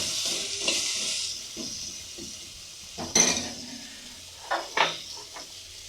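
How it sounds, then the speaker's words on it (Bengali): Mango sour curry is stirred in a pan, with a soft hiss of cooking and a few sharp metal clinks and scrapes from the utensil, fairly quiet and close. "আমগুলো দিয়ে নেড়ে চেড়ে নিতে হবে।"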